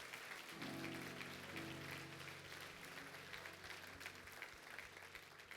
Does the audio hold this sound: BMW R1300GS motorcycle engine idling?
no